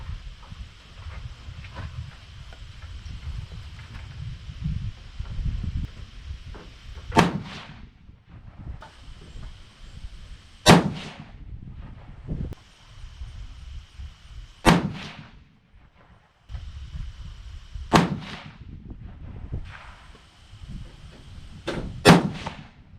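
A 6.5 PRC rifle firing Hornady 153-grain A-Tip loads with Retumbo powder, five sharp, loud shots spaced a few seconds apart over a low background hum, each with a brief echoing tail.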